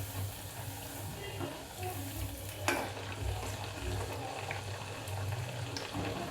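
Poha medu vada frying in oil as they are turned over, with soft continuous sizzling, one sharp clack of a spoon, and gentle stirring sounds, fairly quiet and close.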